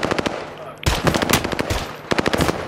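Rapid bursts of automatic gunfire come from a custom-lobby shooter video game, loud and close in several clusters, with brief pauses between the volleys.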